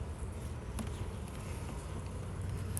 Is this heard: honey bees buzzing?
yes